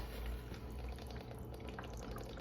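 Beef broth pours into a pot on the stove with a continuous soft splashing rush, close and steady throughout.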